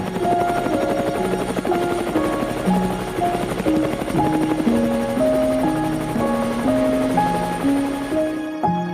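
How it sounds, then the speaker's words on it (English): A loud, steady helicopter drone runs throughout a flight over Manhattan, with a melody of tonal notes layered over the constant rotor noise. "a helicopter ride over Manhattan"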